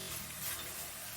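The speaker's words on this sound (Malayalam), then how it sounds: "ഇനി നമുക്ക് ബാക്കി ഇതുപോലെ എല്ലാം വറുത്തെടുക്കാം." Jackfruit chips fry in hot coconut oil, giving a steady, hissing sizzle. It is faint and continuous, with a few light stirring scrapes and no voices.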